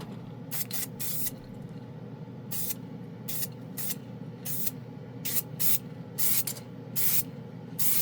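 Rust-Oleum low odor blue spray paint hissing from an aerosol can onto a spoon in a spray booth: short, sharp bursts repeating irregularly over a steady low booth hum, close and fairly loud, with no talking.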